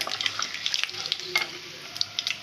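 Dried red chillies sizzle and crackle in hot oil with steady popping and occasional stirring, close up and continuous.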